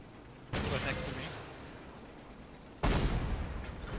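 Two heavy tank cannon blasts in World of Tanks during a historic Battle of Halbe event, each a sudden loud boom with a long rumbling tail, spaced a couple of seconds apart.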